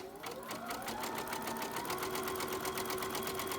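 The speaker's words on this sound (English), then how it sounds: "let me finish sewing that little seam" A sewing machine stitches a small seam in a steady, rapid run of needle strokes that holds close and even throughout, with no voices over it.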